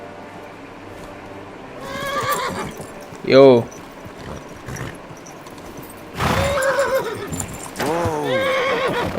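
A horse in Kingdom Come: Deliverance gives a loud, wavering whinny, with more neighing and snorting bursts later and hoofbeats beneath. A voice speaks briefly between the calls.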